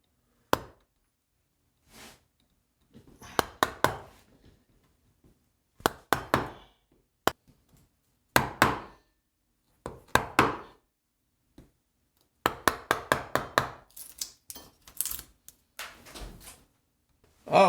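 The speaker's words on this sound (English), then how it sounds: "break away the waste without getting too close to my chop lines" A chisel chopping away waste wood while carving a pyramid-profile border, sharp close knocks and splitting cracks in irregular bursts separated by quiet pauses.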